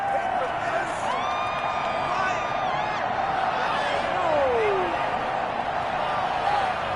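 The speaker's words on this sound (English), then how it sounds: "this crowd does not like that call" Stadium crowd booing a penalty call in the Madden 21 football video game, Buccaneers at Cowboys, a steady, dense roar of disapproval that holds loud and unbroken throughout.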